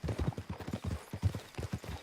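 Horse hooves clip-clop in Red Dead Redemption 2, a steady, close and fairly loud rhythm of hoofbeats on the ground with no talk over them.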